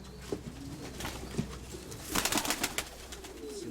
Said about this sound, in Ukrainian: Такий пишний голубок.